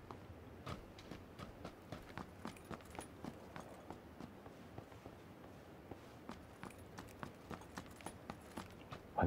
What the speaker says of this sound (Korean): 발소리가 어렴풋이 들리는 것 같은데